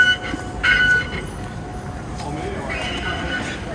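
A Taipei MRT train arrives at a platform with a steady rumble and a brief high squeal. People talk over the rumble.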